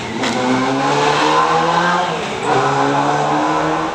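A motorcycle engine roars and revs nearby, its pitch rising and dipping, then revving again over a few seconds, near a film shoot.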